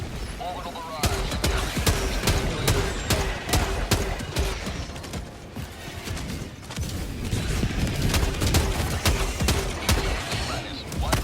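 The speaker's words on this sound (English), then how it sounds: "Firing orbital strike. Orbital barrage." An orbital barrage strike in Helldivers 2 pounds down as a rapid, continuous run of heavy explosions and booming impacts, dense and loud throughout, with brief swells of battle noise between blasts.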